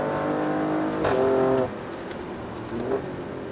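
An Alfa Romeo Stelvio QV SUV with 22,000 city miles accelerates hard, its engine note rising and swelling briefly before settling to a steady drone heard from inside.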